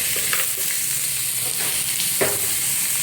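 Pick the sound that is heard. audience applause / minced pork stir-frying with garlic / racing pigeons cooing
minced pork stir-frying with garlic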